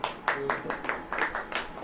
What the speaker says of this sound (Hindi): ताली वाली बजेगी कि नहीं?